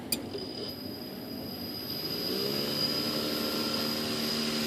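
An electric motor spinning a propeller on a bench test for a 2.6 m ASH26 composite sailplane gives a steady, close whine that swells and climbs in pitch as the throttle is opened.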